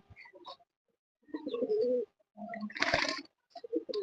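Sherazi pigeons coo close by in several soft, throaty bursts separated by short silences.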